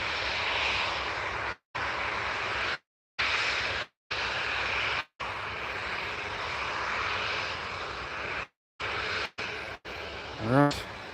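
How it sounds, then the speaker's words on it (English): Ryanair jet engines idling at Newcastle International Airport, a loud continuous roar that masks an approaching VistaJet, with brief dropouts and a rising whine near the end. "struggling to hear the VistaJet on the approach because of the Ryanair that's sat there"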